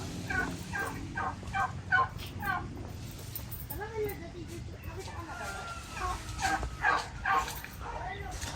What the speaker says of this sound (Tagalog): Ayan yung mga pabo.